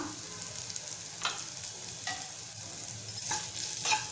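Spices are stirred into bitter gourd in a pan over a constant gentle sizzle, with a few distinct scraping strokes of a spoon heard up close.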